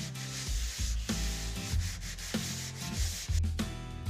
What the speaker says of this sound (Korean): 최종 마무리는 사실은 이 사포가 결정합니다